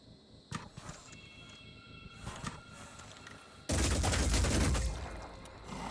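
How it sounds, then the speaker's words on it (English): Sniper gunfire in the video game Phoenix Point, several sharp shots ringing out against game ambience, followed by a loud, sustained burst of shooting. "What is he shooting at?"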